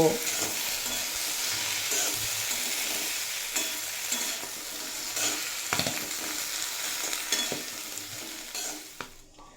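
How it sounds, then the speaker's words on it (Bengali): Potatoes, spices and Malabar spinach with its stems fry in a pan, a continuous close sizzle broken by scraping stirs, fading out at the very end with no voices. "তো এই আলু আর মশলার সঙ্গে আমি পুঁই শাক আর মেটুলিও কিছুক্ষণ ভেজে কষিয়ে নেব"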